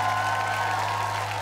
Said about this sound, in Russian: отдельные аплодисменты генеральному продюсеру «Нового радио»